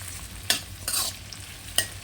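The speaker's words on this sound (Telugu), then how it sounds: "ఆనియన్స్ ఫ్రై అవుతున్నాయి కదా" Onions fry for vegetable fried rice under a soft sizzle, broken by three sharp spatula scrapes against the pan, close and brief.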